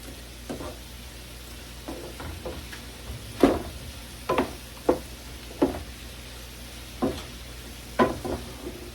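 Cabbage cooking down in a pot, a steady soft sizzle broken by a series of sharp spoon knocks and scrapes against the pot every second or so, close and moderately quiet.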